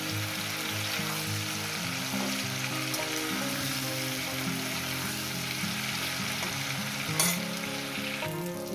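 Cauliflower and potato frying in a pan for a poppy-seed dish, a steady close sizzle with a low droning hum beneath and a sharp clatter near the end.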